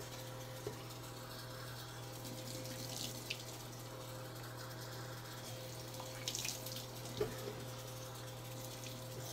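Tap water runs into a sink while a face is rinsed, a faint, steady flow with a low hum underneath and a few small splashes and clicks.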